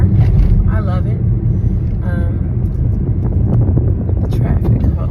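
2020 Kia Soul driving in traffic, a steady low road and engine rumble with wind buffeting the microphone while someone talks over it.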